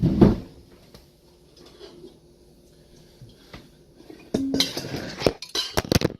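A big bowl is pulled out from among kitchen dishes: a soft rustle at first, then a close burst of clinking and clattering crockery over the last couple of seconds, with no talk.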